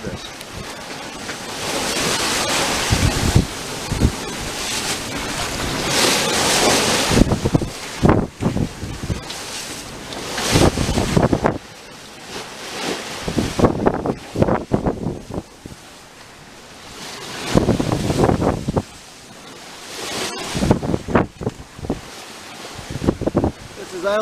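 Sea waves of three to four feet wash and slap against an Island Packet sailboat under sail eastward between Long Island and Turks and Caicos, with loud continuous gusting wind buffeting the microphone.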